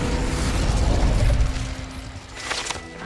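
Incendio fire spell cast in the Hogwarts Legacy game: a loud, dense burst of low rumbling flame and mechanical crackle for the first second and a half, fading into a quieter tail with a bright shimmering flare near the end.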